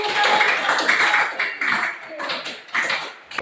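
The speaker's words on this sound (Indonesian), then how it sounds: "beri tepuk tangan, tepuk tangan" Classroom students clap hands after a group presentation on light, an uneven patter of claps rising and falling in bursts, with voices mixed in.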